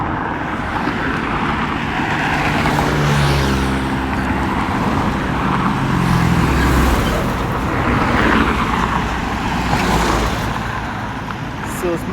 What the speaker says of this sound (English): even 6 months ago, there was not this much traffic